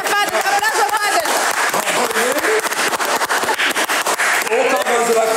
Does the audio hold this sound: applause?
yes